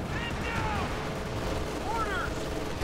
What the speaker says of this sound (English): We got an airstrike going in.